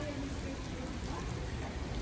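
Rain falls steadily in Germany, a dense, even hiss of drops on surfaces filling the short moment without any voices.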